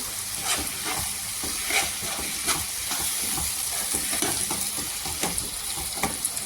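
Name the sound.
tomatoes with salt cooking and being stirred in pan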